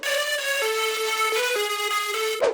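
A processed synth counter lead for a future house track, shaped with a wave shaper and EQ, plays a bright, harmonically rich stepping melody of sustained notes, loud and alone, ending in a short noisy burst.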